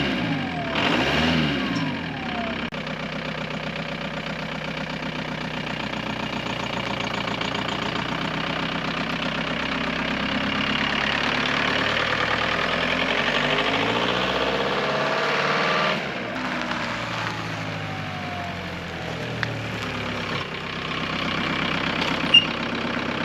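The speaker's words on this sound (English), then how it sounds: "There's that turbo." Turbo diesel engine of a Volkswagen Vanagon Westfalia running steadily and loud, a continuous close rumble with some revving swells and a brief dip near the middle.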